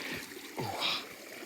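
Floodwater runs through a flooded underpass after a winter storm in southern Maine, a steady nearby rush with a few faint splashes.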